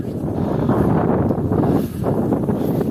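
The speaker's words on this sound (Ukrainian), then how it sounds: "а тут по вітрюгану йдемо" Strong wind buffets the microphone beside a tree windbreak at frozen wheat and barley fields, a steady, loud low roar that dips briefly before surging again, with no voices.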